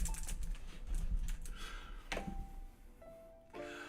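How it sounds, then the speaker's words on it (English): Slow typing on a computer keyboard while a curl command is entered: a few scattered keystrokes and clicks at an unhurried, uneven pace, close and fairly quiet, with no talking. "They're just typing in a curl command slowly."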